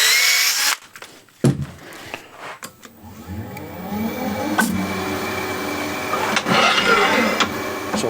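A wood lathe spinning up to speed for bowl turning with a spindle gouge, a loud rising mechanical whir after a few knocks, then a steady motor hum with the tool scraping against the spinning wood, close by and without talk.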